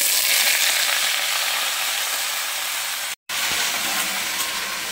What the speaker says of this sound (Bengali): তেলটা গরম হয়ে গেছে, দিয়ে দিলাম কালো জিরে